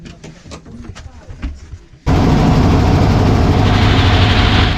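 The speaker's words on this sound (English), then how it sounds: "The motor on this boat is so loud" A loud, steady boat motor drones at close range, starting abruptly after a few seconds of quieter ambient noise and holding a constant low rumble, on a trip in the Banda Islands, Indonesia.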